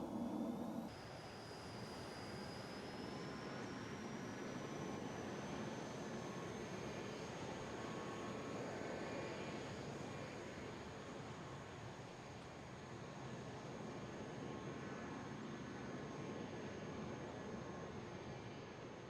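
Hawk T1 jet in Microsoft Flight Simulator during aerobatics, a steady, broad jet engine roar with a thin whine gliding up in pitch and a low rumbling buffet underneath, continuous and even throughout.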